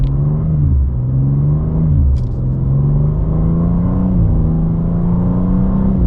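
A 2024 BMW M2 engine revs hard at about half throttle and steadily climbs in pitch through several gear changes, loud and close, with no talking over it.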